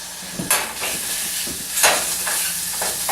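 Spices and ginger stirred into chickpeas in a pan for an Indian spiced dish, a steady scraping stir over a soft sizzle with a few louder strokes, close and without talk.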